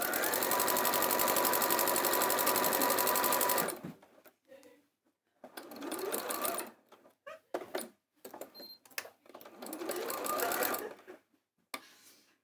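A sewing machine runs continuously at high speed for several seconds, then stops and restarts in shorter uneven bursts of stitching with gaps of quiet between them.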